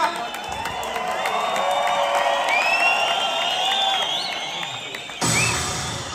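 A crowd at an MMA fight in Ethiopia cheering, whooping and applauding before the bout, a dense roar of voices and clapping with whistles rising over it, loud and sustained, with a brief surge near the end.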